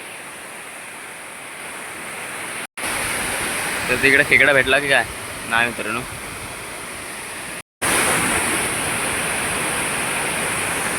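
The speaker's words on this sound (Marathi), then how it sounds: "तर इथं पाणी पडतोय ना खाली तिथे" Water pours down a waterfall into a pool, making a steady loud rushing wash throughout, with someone talking briefly over it and two short drop-outs.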